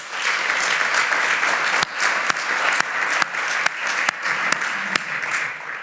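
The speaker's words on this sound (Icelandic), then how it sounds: "Það nú ástæða til að klappa fyrir því." Audience applause at the 2022 Landsvirkjun annual meeting, a steady, dense wash of many hands clapping in a hall, with a few sharper individual claps standing out, continuous throughout and no talking.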